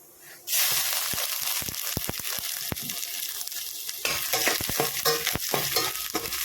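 Hot oil sizzles loudly and steadily after a quiet start as garlic is added to crackling mustard seeds in a pan, with sharp crackles and pops scattered throughout.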